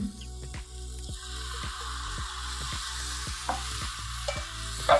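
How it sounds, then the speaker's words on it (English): Steady sizzling of a dressing in a hot pan with regular rhythmic scraping or stirring strokes, continuous and fairly loud, no voices. "It's going to sizzle, so this is exciting."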